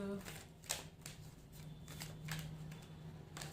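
Tarot cards being shuffled in quick riffling bursts, close up and fairly faint, with a soft voice speaking at the start.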